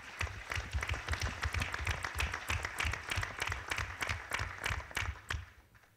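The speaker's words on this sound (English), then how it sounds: "you can give Judge Sharp a round of applause as well" Audience applauding Judge Sharp at a heroin summit, a dense patter of many hands clapping at moderate distance for about five seconds before it fades out.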